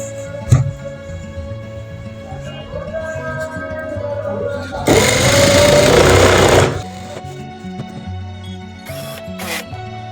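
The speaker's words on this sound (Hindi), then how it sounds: "मैं साथ साथ में ये कपड़ा मोड़ रहा हूँ और सिलाई कर रहा हूँ।" A sewing machine runs a short, loud burst while stitching a folded fabric border onto a bedsheet, with soft handling noises before and after it.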